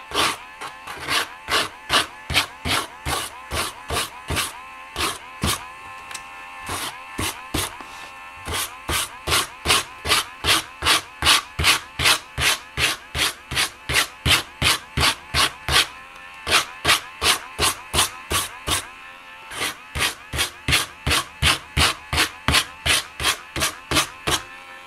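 A C-groove art tool is brushed back and forth across a card in quick, regular strokes, a loud, close scraping rasp repeated steadily with a few brief pauses and no talking.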